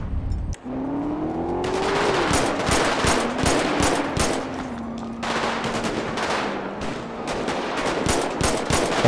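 Rapid bursts of automatic gunfire from the video game GTA 5, loud and close, with repeated sharp shots over a rising engine-like drone and steady game noise.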